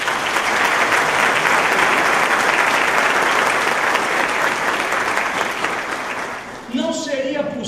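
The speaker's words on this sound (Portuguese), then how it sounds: "peço uma salva de palmas" Sustained loud applause fills the hall at an honorary doctorate ceremony, dense clapping throughout that thins near the end as a voice begins speaking.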